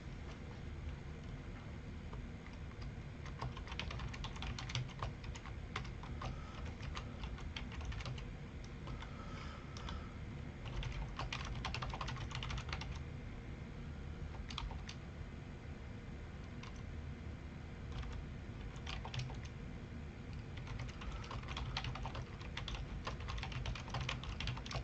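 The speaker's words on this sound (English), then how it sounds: "I'm typing this out." Steady, rapid clatter of keys on a computer keyboard, close and continuous with uneven bursts and brief pauses throughout, no voices.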